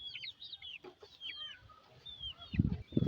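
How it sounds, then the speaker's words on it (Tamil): Chickens and roosters clucking at roosting time on a small family farm, several birds calling in scattered bursts with a louder, closer flurry of clucks near the end and no talking. "சேவல்கள் கோழிகள்லாம் அடையிற நேரம் போல்"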